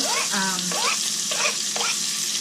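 Beef browning with onion and garlic in butter in a 1960s-style stroganoff pan gives a steady, close sizzle, with a voice talking over it.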